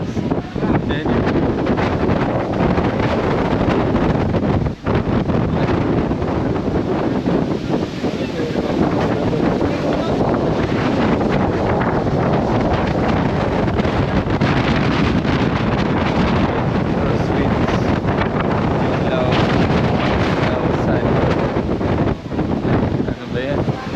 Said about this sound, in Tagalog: Hangin galing dito sa ilalim, galing sa ibaba pataas.